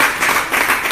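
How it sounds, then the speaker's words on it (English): Brief burst of audience applause for spelling bee contestants, a dense wash of clapping that lasts about a second. "give the spellers a rousing round of applause"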